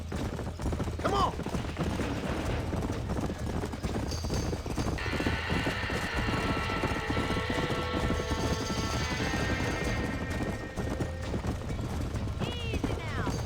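Horses in a burning barn in Red Dead Redemption, with steady clattering hooves and repeated shrill neighs and whinnies over a constant roar, while people shout and talk throughout.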